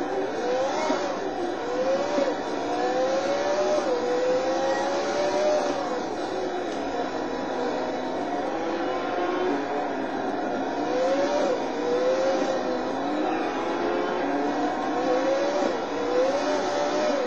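A race car engine in the video game Total Immersion Racing whines steadily for the whole stretch, its pitch rising and falling through repeated gear shifts at a constant loud level.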